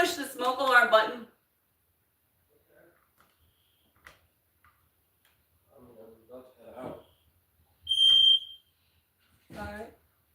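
A ceiling smoke alarm gives a short, loud, shrill electronic beep after its test button is pressed, heard once between bursts of nearby talking in an otherwise quiet hallway.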